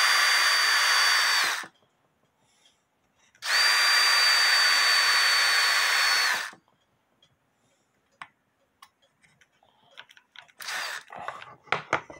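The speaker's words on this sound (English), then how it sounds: "Time to change batteries in my drill." Two sustained bursts of a battery power drill whirring at close range into a wooden clock plate, separated by a pause, followed by scattered light clicks and taps.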